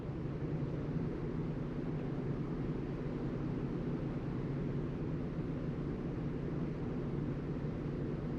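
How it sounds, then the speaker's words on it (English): A 2022 Genesis GV70 with a misfire idles just after starting, giving a steady low rumbling drone that stays even and constant, fairly quiet, with no talk. "Engine started."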